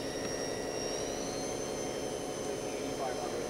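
A 2013 Haas VF8 CNC mill spindle running up to 5,500 RPM: a steady, continuous whine with a high tone over broad machine hum, constant and moderately loud throughout.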